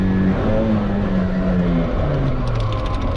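A car engine revs hard in a low gear, a loud steady drone whose pitch climbs and dips under load, close and continuous with no talking.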